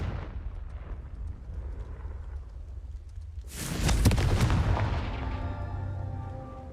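In Hogwarts Legacy, a Confringo blasting spell lands after a low rumbling lead-in, bursting into a loud, sharp explosion that rolls off into a fading crackling tail.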